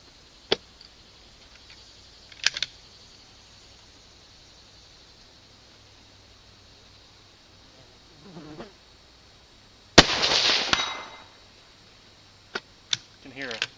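A 6.5 Creedmoor rifle fires at a 200-yard target, one loud sharp report with a brief decaying rush, followed a couple of seconds later by faint distant ticks amid quiet outdoor background.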